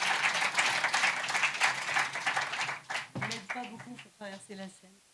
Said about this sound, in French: appelle donc tout de suite Maggie Cisterne, sous vos applaudissements, secrétaire générale du Festival du cinéma de Brive